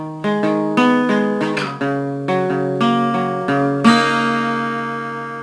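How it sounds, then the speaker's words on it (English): Electric guitar from a song rings out the top two open strings among a sequence of picked notes, each sustaining and overlapping, close and clear with no talking. "what we're going to do is just play the top two open strings"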